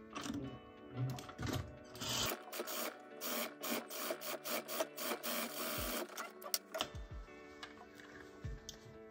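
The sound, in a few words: sewing machine stitching fabric pieces together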